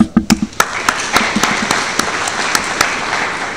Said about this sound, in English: They deserve a clap.